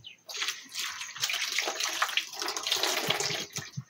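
Running tap water while hands are washed, a steady close splash and gush with sloshing that varies as the hands move under the stream.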